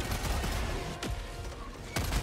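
A Helldivers 2 sentry turret fires on bugs, giving a rough volley of gunfire with two distinct sharp shots about a second apart over a dense, rumbling battle background.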